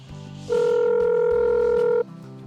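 Telephone dial tone heard while placing a call, one steady loud tone lasting about a second and a half, with a low hum before and after.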